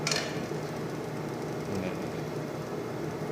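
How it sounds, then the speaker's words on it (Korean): An F350C cover laminator runs and automatically trims the cover sheet, giving a steady, fairly loud mechanical rumble and whir that holds evenly for the whole stretch with no talking. "지금 커팅되는 소리가 들리시죠?"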